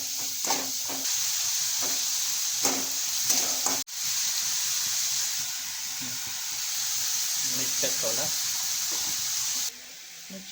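Hot oil sizzles and crackles steadily as tempering fries for a wild foraged-greens dish, with a sharp clack partway through and a few brief spoken words over it.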